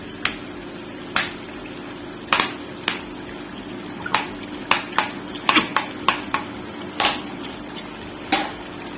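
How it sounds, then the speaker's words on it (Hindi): A spoon scrapes and clinks against a pan while fried rice with chili sauce is mixed, a dozen or so sharp irregular metallic taps over a steady low hum. "और इसको अच्छे से मिक्स कर लेंगे"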